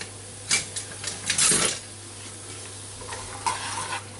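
Onions being stirred gently over low heat in a pan, with a few scraping utensil strokes against the pan and a soft sizzle beneath, close and fairly loud, no talking.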